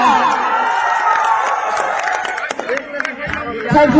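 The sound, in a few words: crowd applauding and cheering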